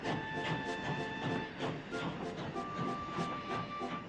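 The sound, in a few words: steam hiss of a steam locomotive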